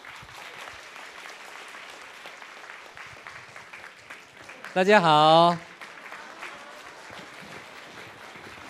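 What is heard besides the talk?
audience applause at an awards ceremony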